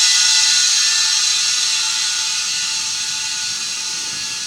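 Compressed air from a shop air compressor hisses steadily into a tire bead blaster tank on a manual tire changer, a loud continuous rush that fades slightly as the tank fills, with no talking.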